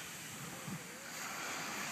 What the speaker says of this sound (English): This is a typical crowded Baja beach.